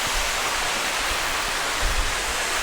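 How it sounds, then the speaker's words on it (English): Window Falls at Hanging Rock State Park in North Carolina pours as a steady, broad hiss of falling water, continuous and fairly close with no voices over it. "There's the waterfall."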